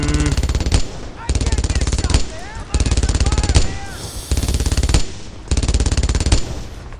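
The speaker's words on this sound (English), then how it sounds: "Forgot about the machine gun." Machine gun fire in the WWII video game Brothers in Arms: Earned in Blood rattles in five loud, close, rapid bursts of about a second each, with short gaps and whistling ricochets between them.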